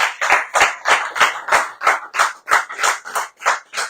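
One person claps steadily and close by in a radio studio, about a dozen sharp evenly spaced claps with no other voices.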